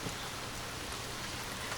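Steady, gentle rain falling on a surface, a dense continuous hiss of many small drops, even in loudness throughout and with no voices.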